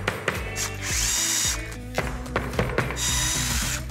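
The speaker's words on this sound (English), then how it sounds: "Now that's pre-drilled" A power drill pre-drills into wood in several short bursts, with whining spin-ups, pauses, and quick mechanical clicks between runs, close and clear.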